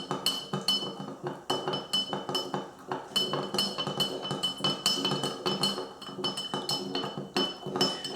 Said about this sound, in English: So stir that up.